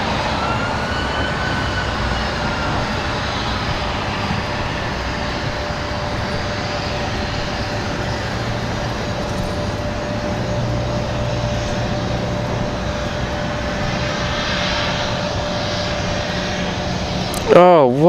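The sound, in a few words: business jet landing at Washington Dulles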